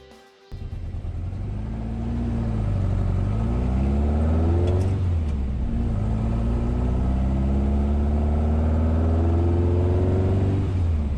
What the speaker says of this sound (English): It's time to hop in the car and go for a ride.